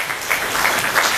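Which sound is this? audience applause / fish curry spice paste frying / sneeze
audience applause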